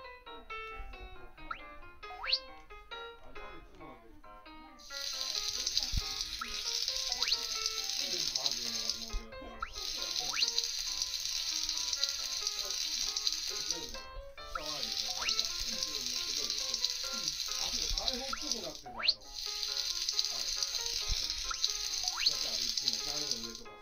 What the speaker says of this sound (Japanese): フライパンに具材を入れて軽く炒めていこう